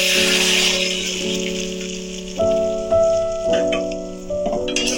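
Pumpkin paste sizzling and frying in hot ghee in a wok, a steady crackling hiss with sharper bursts as it is stirred, alone with no voices.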